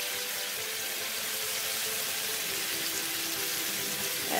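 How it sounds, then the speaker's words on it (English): Chinese lo mein stir-frying in a hot pan sizzles steadily, a continuous crackling hiss at moderate volume with no talking. "while it's stir frying"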